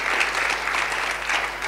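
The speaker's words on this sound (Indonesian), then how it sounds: "Tepuk tangan dulu bagi Tuhan Yesus." A church congregation claps together during a worship service at GBI Rock Batam, a steady, even burst of applause heard on its own at moderate volume.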